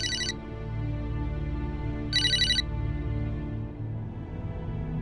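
A phone rings twice, short bright electronic trills a couple of seconds apart, standing out over a steady low background hum.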